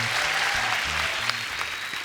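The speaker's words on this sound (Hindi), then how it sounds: "जोरदार तालियां।" Studio audience on a comedy talk show breaks into steady, dense applause that fills the full stretch at an even level, with a faint voice or two under the clapping.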